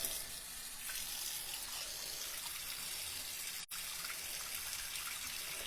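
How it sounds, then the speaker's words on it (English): Warm tap water runs steadily over a glass jar held upside down under a kitchen faucet, a continuous close hiss and splash with one brief break. "Ek gaan dit onder die warm water."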